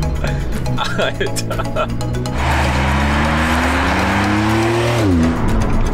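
A Porsche 992 911 Turbo Cabriolet at full throttle: a loud engine note climbs steadily in pitch over several seconds, then drops with a shift near the end, with people talking over the start.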